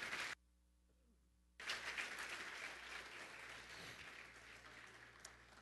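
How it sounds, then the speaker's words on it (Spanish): A church congregation bursts into sustained applause after a short silent gap, with the dense clapping gradually easing while staying fairly steady and faint. "Dele un aplauso al rey, por favor."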